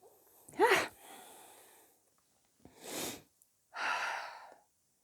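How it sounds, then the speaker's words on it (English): A single sharp sneeze bursts out close and loud, followed by breathy exhales and sniffs with quiet pauses between. "Don't you dare call that a cute sneeze in the comments either."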